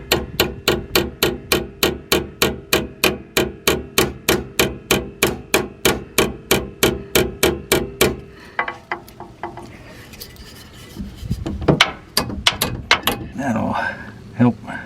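Steady, evenly spaced blows from a big hammer on a Dodge Dakota brake line ring out about twenty times, then stop, followed by some clattering and handling noises.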